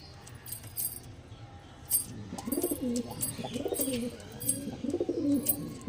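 Andhra pigeons cooing in a loft, several soft throaty coos repeating in the second half, close, with jangling metallic clicks and light chirps around them.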